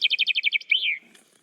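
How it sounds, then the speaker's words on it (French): Common chaffinch singing outdoors in a mountain cirque, a fast run of about eight bright, even trills ending in a descending flourish, close and clear, then fading to quiet. "C'est les pinsons des arbres."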